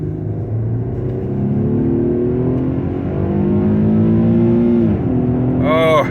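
An Infiniti QX70 V6 engine revs up while driving, the tone climbing steadily in pitch and loudness, easing off near the end, then a quick rising whine at the close.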